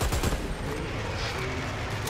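An airstrike in the video game Dirty Bomb lands as a dense, rapid barrage of explosive impacts, loud and continuous for a couple of seconds.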